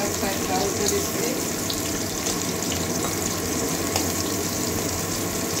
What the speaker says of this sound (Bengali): এক সাইডটা ভাজা হয়ে গেছে, আরেক সাইডটা উল্টে দিচ্ছি।